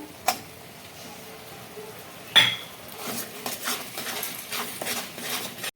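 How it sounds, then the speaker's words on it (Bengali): Spices and tomato paste sautéing in a pan come through as a sharp clink of a metal utensil, then repeated scraping and clattering of stirring against the pan, close up, with no talking. "2-3 মিনিট ভালো করে কষিয়ে নেব মশলাগুলো।"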